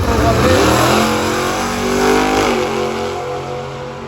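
A Mustang makes a drag racing pass at Carolina Drag Cru, its engine roaring loud and close as it revs through a rising then falling pitch sweep, crowd noise underneath.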